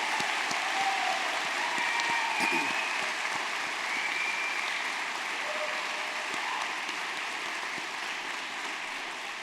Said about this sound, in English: So let's give our doctoral students a round of applause.